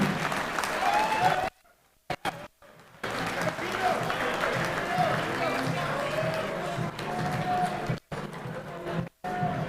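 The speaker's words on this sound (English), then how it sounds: "a big round of applause for someone that has devoted many decades to Brock University and Brock Sports, Mr. Joe Kenny." Audience at a Brock University varsity sports awards gala applauds in a sustained burst, broken by a few short silent gaps, with a voice speaking over the clapping.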